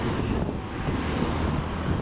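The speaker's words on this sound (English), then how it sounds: "Even this, it's a little windy right now, but it's like a hot wind." A hot wind buffets the microphone with a steady low roar and rumble, loud and continuous with no voices, in Krasnodar, Russia.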